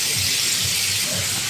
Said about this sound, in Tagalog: So habang prito ko yung baboy